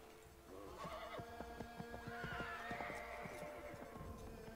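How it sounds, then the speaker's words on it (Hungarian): Horses neigh and whinny in the Assassin's Creed III video game, several shrill calls overlapping with hoof clatter across a snowy outdoor scene, loud and close over a steady ambient background. "Aha, elszaladtak a lovak"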